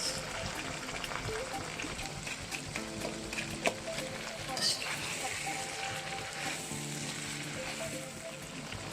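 Onions frying in a wok for la zi ji, Sichuan chili chicken, with a steady loud sizzle and crackle throughout, brief clatters of stirring, and a faint voice now and then underneath.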